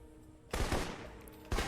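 Rifle gunfire in the video game Alpha Protocol: two loud, broadband shots close by, the first opening a sustained burst of fire, the second a sharp crack near the end.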